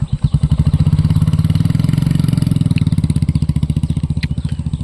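A Royal Enfield Hunter 350 motorcycle engine thumps with a steady, rapid single-cylinder beat, close and fairly loud, holding an even idle-like rhythm throughout.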